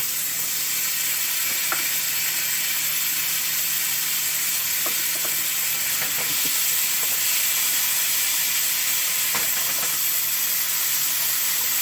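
Tomatoes and spices frying in a pan for Punjabi dhaba-style egg bhurji, a loud, steady sizzling hiss with a few faint clinks of stirring, continuous throughout.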